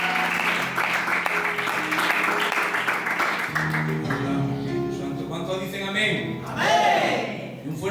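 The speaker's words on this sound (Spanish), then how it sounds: "¿Podéis darle un fuerte aplauso a Dios?" A church congregation applauds in praise, a sustained broad wash of clapping mixed with cheering voices and music underneath, continuing steadily through the moment.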